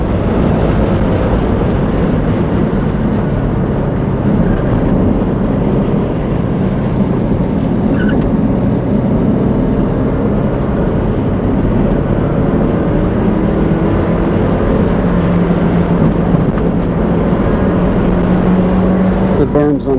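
A Honda S2000 or Mazda Miata sports car drives around the Buttonwillow racetrack, its engine holding a loud, steady drone under heavy wind rush, with the pitch shifting slightly as revs climb.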